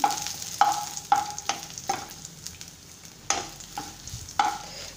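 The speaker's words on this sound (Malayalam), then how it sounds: "ഞാൻ എടുത്തു വെച്ചിരിക്കുന്ന വെളുത്തുള്ളി ഉണ്ടല്ലോ അതോടെ ഒരു കുറച്ച് ഒന്ന് ഇട്ട് കൊടുക്കുക അതും കൂടെ ഒന്ന് മൂത്ത് വരണം" Garlic frying in oil in a pan while preparing a Kerala pulissery, with a steady sizzle under repeated scraping strokes from a stirring spoon. It is close and moderately loud, with no talking.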